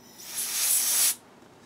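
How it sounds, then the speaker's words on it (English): Cleaner sprays onto a 3D printer fan on an Artillery Sidewinder in one close, steady hiss of about three quarters of a second that stops sharply. "Same process, just spray it down a little."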